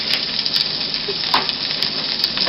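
Finely chopped fresh ginger sizzles and splutters in a hot pan while being sautéed for bamya, a steady close frying crackle with small pops and no talking.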